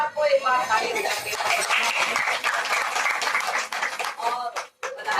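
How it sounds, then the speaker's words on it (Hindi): A congregation claps together at a satsang gathering, a loud sustained round of hand clapping with a brief dip near the end before resuming. "पूरे परिवार को एक बार ताली बजाते"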